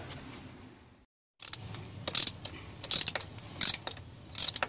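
Ratchet with a half-inch socket loosening a thermostat housing bolt on a 1977 Triumph TR7, quick bursts of close metallic clicking after a brief silence, in several separated runs.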